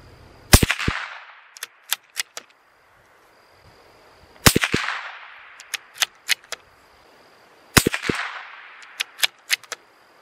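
A CZ 457 .22LR rifle fires CCI Mini-Mag 40-grain rounds at a 100-yard range: three sharp close cracks about four seconds apart, each trailed by a decaying echo and a few lighter clicks from cycling the bolt.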